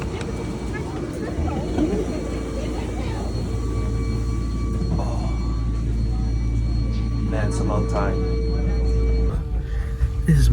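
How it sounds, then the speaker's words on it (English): A passenger train pulling into a station and running, a steady low rumble with rising mechanical drone and a few faint clanks, while someone speaks briefly over it. "Train has arrived."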